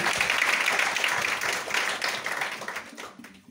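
An audience bursts into applause at a formal MSME event, a dense wash of clapping that holds steady and then gradually fades toward the end.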